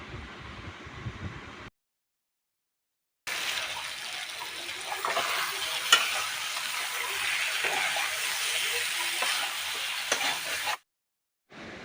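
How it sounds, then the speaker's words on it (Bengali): Ridge gourd stirred with spices in a pan, a steady wet sizzle and frying hiss with a few stirring scrapes, continuous for several seconds and bracketed by brief silent gaps. "মশলার সাথে ধুন্দুলটা দিয়ে আমি নাড়াচাড়া দিয়ে ঢেকে রেখেছিলাম"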